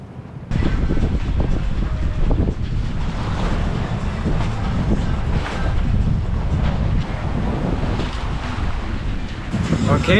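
Strong wind roars and buffets a sailboat at sea, with waves and water rushing past the hull, growing more overpowering as the boat runs with a reefed sail and furled genoa.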